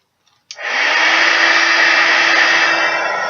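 A heat tool switches on with a sudden click and settles into a loud, steady blowing whoosh, aimed at glue crystals on Delft-style glass flowers to melt them.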